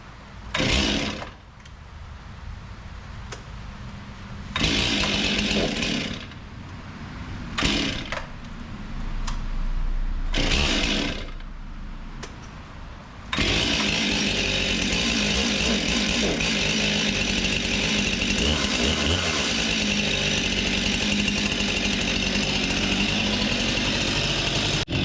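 A Stihl MS261 chainsaw in a garage gets several sharp pull-start attempts with brief sputters, then catches and runs steadily, its engine droning loud and continuous as it warms up.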